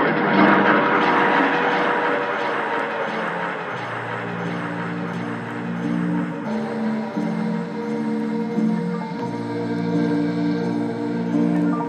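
A Luftwaffe bomber drones overhead during the 1940 Bristol air raid, a loud sustained engine hum with pulsing low tones that shift in pitch as it passes, heard alone without speech.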